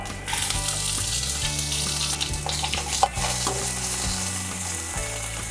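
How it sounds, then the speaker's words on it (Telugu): Green chillies, cut open, frying in a little oil for a raw dondakaya (ivy gourd) chutney, a steady close sizzle and crackle with a few stirring scrapes, one sharp pop partway through, and no voices. "ఈ పచ్చిమిరపకాయలు ఒక్కటి కొంచెం ఆయిల్ వేసుకొని వేయించుకోవాలి"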